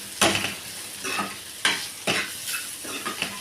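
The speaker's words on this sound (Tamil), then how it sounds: "மிளகு தூளியும் போட்டாச்சு போட்டு நல்லா நம்ம வணக்கிக்கலாம்" Spleen with onion and ground pepper sautés in a pan, with a crackling sizzle broken by several sharp spatula stirs and scrapes at an uneven rhythm, close and without speech.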